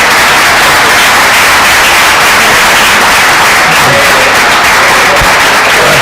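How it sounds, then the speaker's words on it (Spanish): Steady, dense applause from a large audience fills the whole stretch without pause, loud and broadband like a packed hall clapping together, with no voice rising above it. "yo le pido de nuevo un fuerte aplauso para Federico"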